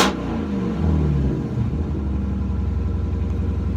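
A Grand Sport Corvette with a full exhaust is revved hard, opening with a sharp blip and falling into a deep, loud, throbbing rumble that settles toward a steady idle, with no one talking.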